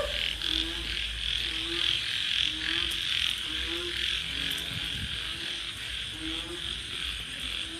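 Banded bullfrogs croak in repeated low, evenly spaced calls outdoors on damp ground, over a steady chorus of insects and other frogs, with people talking faintly nearby.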